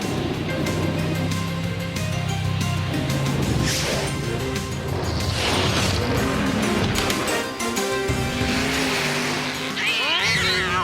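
Cartoon scene of cats raining down from the sky through a dense, chaotic mix of crashes, thumps, mechanical clatter and cartoon meows over a continuous loud soundtrack.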